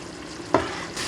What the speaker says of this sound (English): So we are going to fry this until it's nicely cooked